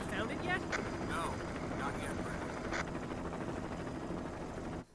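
Helicopter flying over the forest zone in Resident Evil, a steady loud droning whir of rotors and engine that continues beneath a narrating voice and drops off abruptly at the end.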